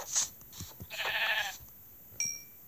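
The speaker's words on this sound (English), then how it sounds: "Luck that we found a sheep." A sheep in Minecraft gives a short nasal bleat, then a longer wavering one, with light clicks and a brief tone afterward, fairly close and clear.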